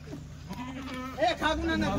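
Kathiyawadi goats bleat in a short burst close by at a livestock sale, heard under people talking.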